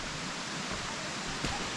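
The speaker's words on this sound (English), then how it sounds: "I can hear the waterfall." Steady broadband rush of a waterfall, close and constant, filling the whole scene with a hiss-like roar and no distinct breaks.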